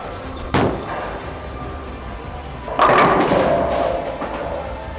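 A bowling ball hits the pins on a lane with a sharp crash, then a second, louder clatter of pins rings out and fades.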